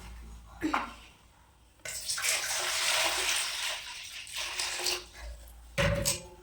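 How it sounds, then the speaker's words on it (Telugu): Framed photos washed by hand in water with turmeric: close sloshing and splashing in uneven bursts, with short pauses between strokes and no speech. "ఇందులో కొంచెం పసుపు పసుపు వేసి ఫొటోస్ కడుక్కుంటాం అన్నమాట ఫొటోస్ క్లీన్ చేస్తున్నాం"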